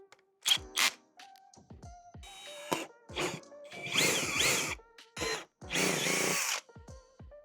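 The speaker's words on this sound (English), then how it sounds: "And I'm going to drill them out." A power drill whirs in several short, loud bursts with brief pauses between, the motor revving up as it drills holes in a BMW X5 while installing air helper bags, close by.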